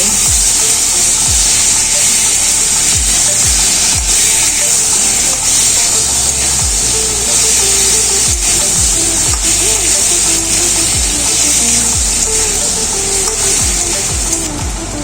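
Baim fish (eel) curry with potato and tomato being stirred in a pan, with a loud continuous sizzle of frying and repeated scraping strokes of the spatula against the pan throughout.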